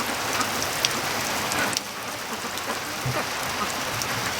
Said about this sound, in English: It's so funny seeing them when it's raining like this